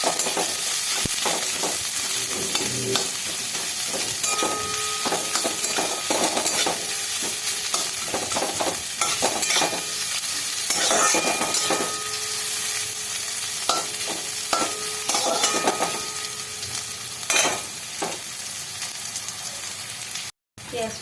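Onion fries lightly in a pan with a continuous crackling sizzle. Frequent stirring and scraping strokes break the sizzle, and it stops abruptly near the end.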